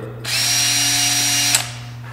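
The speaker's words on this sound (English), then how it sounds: "Ah! Drill." A DeWalt power drill whirs loudly and close in a single steady burst of about one and a half seconds, then spins down to a stop while building a barbell rack.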